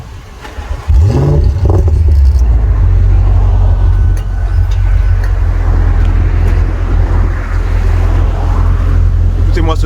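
An Audi RS6 605 hp engine starting up outdoors with a sharp rise into a loud, deep, steady rumbling idle from the exhaust, close and continuous.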